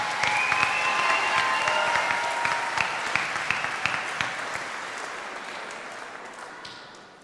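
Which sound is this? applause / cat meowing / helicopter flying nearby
applause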